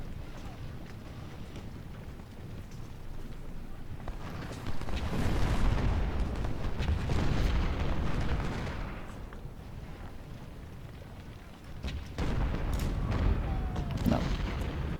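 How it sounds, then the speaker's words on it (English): Cannon fire from artillery batteries in the Civil War strategy game Ultimate General Civil War, a dense rumbling barrage of booms with several louder bursts, heard alongside low game ambience. "cannon fire on..."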